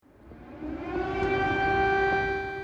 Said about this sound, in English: Air raid sirens in Kiev and explosions reported across Ukraine after Russian President Vladimir Putin annou